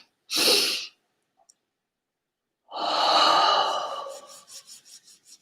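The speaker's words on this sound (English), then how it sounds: "really take that breath in." A deep breath in during a breathing exercise: a short sharp inhale, a pause of silence, then a long loud drawn-in breath trailing off into fluttering breathy pulses.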